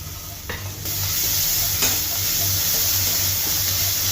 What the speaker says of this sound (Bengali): পেঁয়াজগুলো ভাজা হয়ে গেছে, এবার জিরা বাটা রসুন বাটা দিয়ে দিব।